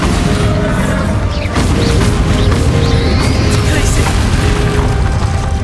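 A Bombarda blasting spell in Hogwarts Legacy bursts into a loud, sustained explosive roar with rumbling debris and magical whooshes layered throughout.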